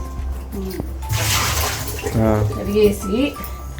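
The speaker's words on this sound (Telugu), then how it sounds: "4-5 ఎరగడ్లు బాగా పొట్టు తీసుకొని ఇట్లా నీట్ కడిగేసి" Peeled onions being washed by hand in water in a home kitchen, with splashing and sloshing water under a voice talking.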